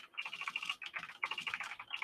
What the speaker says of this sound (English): my typing is the worst right now